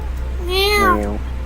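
A cat meows in the video game No I'm Not a Human: one clear, drawn-out meow that rises and then falls in pitch, heard over a constant low background hum.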